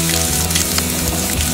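Loud, steady sizzling of spices and dried chillies frying in hot oil for a tempering, close up and continuous, with no voices.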